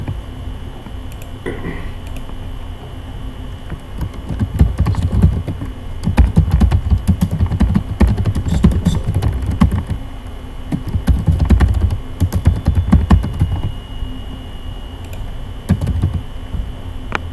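Clattering keystrokes on a computer keyboard arrive in irregular bursts and pauses as text is typed into a WordPress website editor, close and fairly loud with no talk over them.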